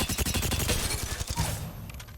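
Volt SMG in Apex Legends firing a rapid, sustained burst of closely spaced shots at close range, then cutting off abruptly into a quieter tail.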